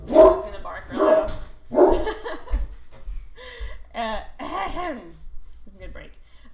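A man imitates a dog barking loudly with his voice, giving a few gruff bark-like shouts and throat sounds close to the microphone, followed by a brief chuckle.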